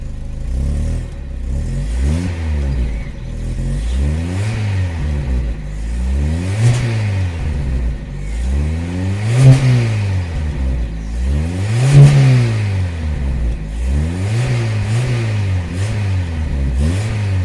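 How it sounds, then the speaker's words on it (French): A 1978 first-generation Honda Accord four-cylinder engine, poorly sound-insulated, revs up and falls back repeatedly in a steady rising-and-falling rhythm, loud and close, with no talking. "Par contre, on entend bien le moteur."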